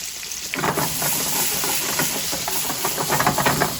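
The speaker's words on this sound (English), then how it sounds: "I want to make sure that we're cooking these onions until translucent." Diced onion frying in crispy rendered pork fat, a steady close sizzle and hiss with crackling pops that starts half a second in and keeps going, no talking over it.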